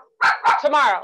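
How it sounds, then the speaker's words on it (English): A dog barks in two or three quick, close, loud yips at a comedy club, merging into a short run of barking. "That's my dog"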